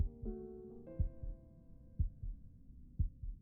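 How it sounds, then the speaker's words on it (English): Slow, steady heartbeat from the game Before Your Eyes, deep double thumps about once per second, sounding close and prominent over a fading musical tone. "Music is being drowned out by my heartbeat"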